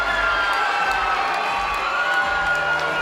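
Hometown crowd at a regional MMA event cheering and whooping after a third-round finish, a loud, continuous roar of many voices filling the arena.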